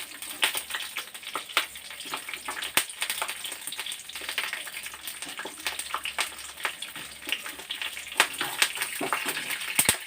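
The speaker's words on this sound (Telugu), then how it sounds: "పల్లీలు వేసుకొని దీన్ని వేయించుకుంటూ ఉన్నప్పుడే అదే పొజిషన్లో మనం పచ్చిమిర్చి వేసుకోవాలి." Peanuts and green chillies fry in a pan for green tomato chutney, a steady dense crackling sizzle with sharp pops and spits running the whole time, fairly close and even, with no talking.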